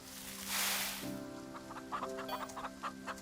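Chickens in the farming video game My Time at Farm Together cluck in short, soft bursts over a steady hum of game music.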